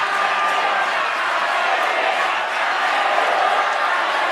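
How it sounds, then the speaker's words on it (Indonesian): Supporters of four candidate pairs applaud and cheer at a West Java gubernatorial debate, a steady, loud wash of crowd noise and clapping with shouts mixed in throughout. "kami berikan kesempatan untuk masing-masing pendukung pasangan calon memberikan tepuk tangan yang meriah bagi keempat pasangan calon"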